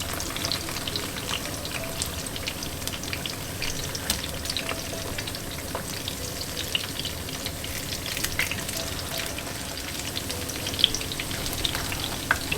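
Salmon fritters frying in oil in a pan, a dense steady hiss and crackle of sizzling with occasional small pops and clicks as they are turned, close and continuous, no voices.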